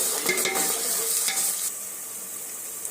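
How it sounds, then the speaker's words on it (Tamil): Chopped large onions sauté in a hot pan, a bright sizzle with spoon scrapes and stirring clatter in the first half, then a softer steady hiss fading out. "பெரிய வெங்காயத்தையும் போட்டுக்கலாம். போட்டு நல்லா வதக்கிக்கலாம்"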